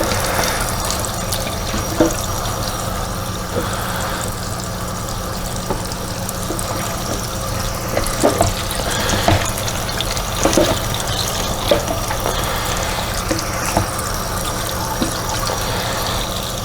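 Tap water runs steadily while salmon is rinsed off at a sink before canning, a constant close splashing wash with small clinks and bumps scattered throughout.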